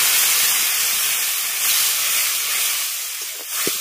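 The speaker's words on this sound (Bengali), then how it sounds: "এবার এর মধ্যে অল্প পরিমাণে জল দিয়ে দিচ্ছি" Water poured into a frying peanut spice paste in a pan, hissing and sizzling loudly in a bright steady spray that eases slightly and ends in a brief bubbling spurt.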